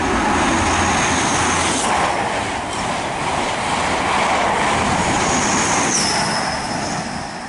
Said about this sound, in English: passing now is an East Midlands train service to London St Pancras from Nottingham